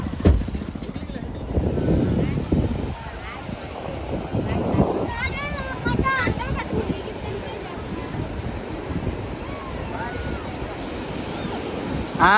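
Sea waves crash and wash up on a beach, a broad roaring surf with wind buffeting the microphone, while people talk over it and a high chirping sound briefly rises mid-way.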